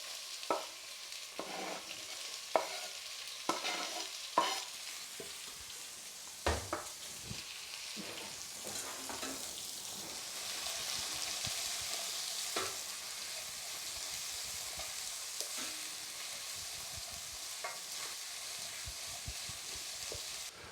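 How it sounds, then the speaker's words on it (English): Finely chopped red onions frying in a pan with whole spices for dal makhani: a steady hiss and sizzle under sharp clicks and scrapes of a spoon stirring, close and moderately loud, no talking. "you must cook these onions till they go nice and caramelised and dark brown and sticky"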